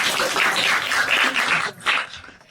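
A comedy-show audience applauds in a dense, sustained burst of clapping that fills the room, briefly dips and then swells once more before fading.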